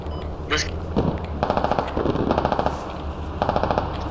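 Rapid machine-gun bursts in the military shooter Squad, with repeated rattling volleys at mid distance over a steady rumbling battlefield background.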